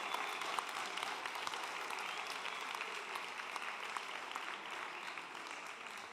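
Crowd applauding a group stepping onto the stage at a Climathon closing ceremony, a steady wash of many hands clapping, fairly faint and distant, with no voices over it.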